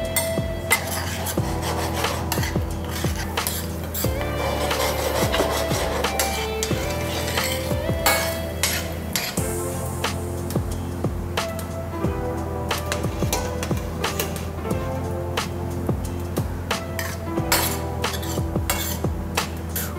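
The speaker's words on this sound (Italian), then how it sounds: "Adesso andiamo ad aggiungere la passata di pomodoro." A spoon scrapes and stirs tomato passata and olives in a pan while preparing fusilli with anchovies, a steady rhythm of metallic rubbing and light clinks against the pan, close and continuous.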